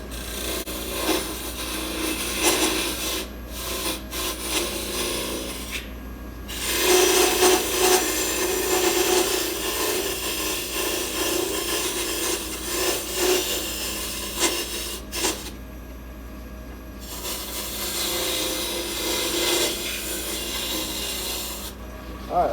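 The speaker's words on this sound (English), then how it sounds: "I look at my tool as I go to approach the wood" Wood spinning on a lathe under a turning tool: a continuous close rasping and scraping hiss that swells and eases as the cut changes, with two short pauses, no talk.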